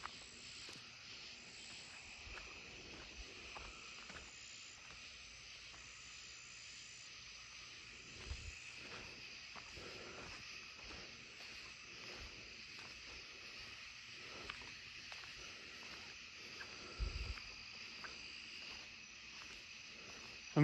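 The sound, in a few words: eastern striped cricket chirping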